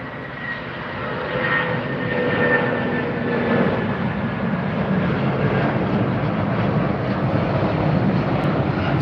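A jet airliner at LAX airport roars steadily at close range, a broad, loud engine rumble that swells early and then holds, with no voices heard.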